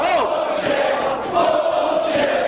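A wrestling arena crowd roars in loud, sustained protest, a dense wall of shouting and jeering voices that swells slightly midway and stays strong throughout.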